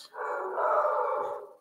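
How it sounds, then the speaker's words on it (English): Dogs give one drawn-out, howling bark that lasts over a second, fairly loud and heard alone. "The dogs are having a good bark."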